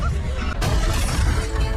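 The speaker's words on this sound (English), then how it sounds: "a Demogorgon smashes through the Wheeler house, breaks down the walls and furniture of their home" A Demogorgon smashing through the walls, furniture and doors of a house, a loud crash with shattering debris that bursts in suddenly and stays dense and rumbling to the end, with a voice mixed in.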